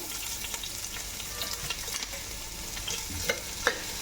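Chopped onions fry in oil in a pan, a soft, steady sizzle heard fairly close, with a few faint stirring clicks near the end and no talking.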